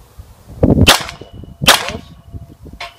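A pistol magazine removed and inserted during a retention reload: two sharp metallic clacks about a second apart, then a softer click, close and loud, with faint handling noise between.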